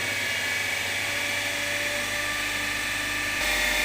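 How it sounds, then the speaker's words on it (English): A DC shunt motor in an engineering lab runs at its rated 1500 rpm, giving a steady, high-pitched electric whine with a constant hum underneath, unbroken throughout. "you can make the motor to run at the rated speed, that is 1500 rpm"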